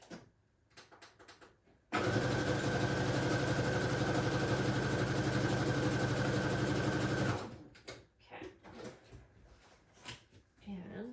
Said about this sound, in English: just sew right down the side there off camera, just so we can do this quickly. And I'll do a zigzag stitch.